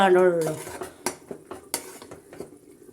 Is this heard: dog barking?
no